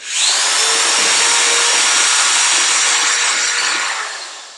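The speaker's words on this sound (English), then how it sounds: "Aim my drill right in the middle of the hole, drill through." A power drill whines loudly and steadily as it bores through tap shoe material up close, tapering off slightly at the end.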